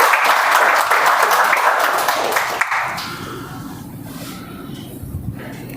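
An audience at a Toastmasters meeting claps in a loud, dense burst for about three seconds. The applause then thins to scattered claps and room murmur.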